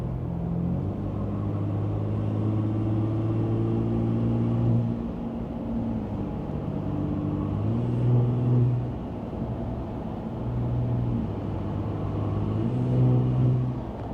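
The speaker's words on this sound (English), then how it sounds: "now I'm just gonna give it a little bit of gas" A Ram RHO pickup truck's engine pulls steadily on light throttle while cruising, a continuous low rumble with rising and falling harmonic tones as it accelerates and shifts, close and even, with no talking.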